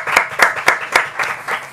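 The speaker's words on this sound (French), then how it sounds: "On peut applaudir." Clapping at a municipal council meeting for an award winner is sparse and distinct, with individual claps landing in a quick, fairly regular rhythm, close and moderately loud.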